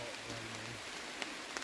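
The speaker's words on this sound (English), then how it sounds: "because it just started raining. Lovely. Hear it?" Light rain patters steadily on a pine-forest wild camp with hammocks, a soft broadband hiss broken by a few sharper drops, with faint low voices in the background.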